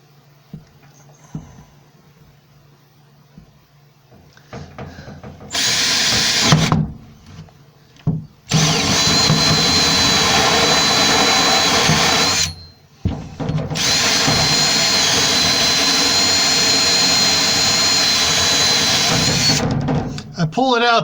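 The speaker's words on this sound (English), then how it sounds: "I'm going to be drilling with an" A power drill fitted with a 1¼-inch hole saw runs in bursts, one short, then two long sustained runs with brief stops between, loud and close, after a quiet start with small handling noises.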